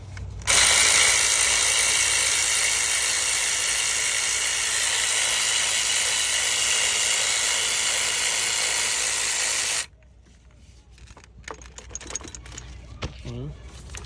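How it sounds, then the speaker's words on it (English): Electric ratchet spinning a 17mm bolt during front engine torque mount work on a 1998-2002 Honda Accord 4-cylinder: a loud, steady whirring burst lasting about nine seconds, then it stops, leaving faint clicks and handling noises. "now I got my electric ratchet down there on that 17mm."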